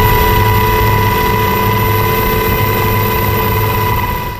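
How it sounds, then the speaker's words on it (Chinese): An Airborne Service Corps rescue helicopter hovers above mountain terrain during a hiker rescue in Taiwan, its loud, steady rotor and engine drone continuous and close throughout before fading slightly at the end. "空勤总队直升机停在空中，一名救护人员慢慢带着人拉上直升机。"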